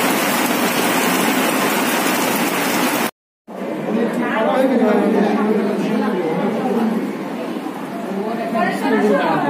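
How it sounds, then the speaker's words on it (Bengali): Heavy rain pours outside a health centre, a loud, constant hiss that cuts out for a moment, while people talk over it nearby. "খুব জোরেই বৃষ্টি নেমে গেছে"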